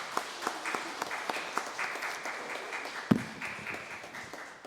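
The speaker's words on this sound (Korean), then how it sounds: "우리 권사 찬양대에 격려의 박수하도록 하겠습니다." A church congregation claps for a choir of women deacons during a worship service, a steady patter of many hands with a few louder claps, moderately close and fading toward the end.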